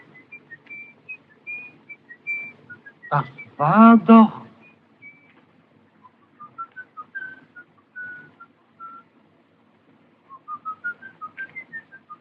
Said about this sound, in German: hör doch mal, da pfeift doch einer.